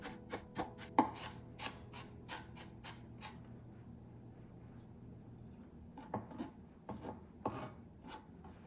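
A knife mincing ginger on a cutting board for Japanese karaage: a run of quick, crisp chops tapping on the board, then a pause and a few scattered cuts near the end, close and moderately loud.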